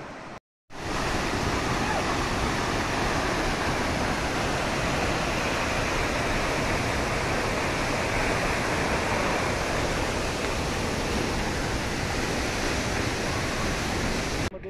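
Madhe Ghat waterfall near Pune in heavy monsoon flow, a loud, dense roar of falling water that stays constant and close after a brief silent moment at the start.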